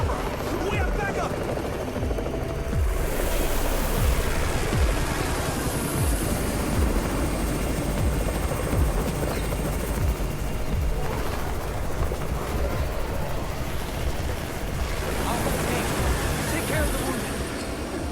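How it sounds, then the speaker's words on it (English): Helicopter arriving in the zombie game Undawn, a loud continuous rotor roar and thumping close by throughout, with voices speaking over it. "It's Raven's chopper!"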